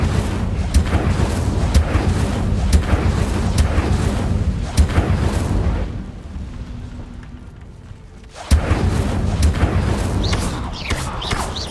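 Incendio fire spells in Hogwarts Legacy go off in a rapid string of loud, booming blasts. A short lull follows before the bursts resume.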